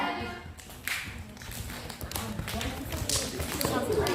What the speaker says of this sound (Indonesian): Tepukan dada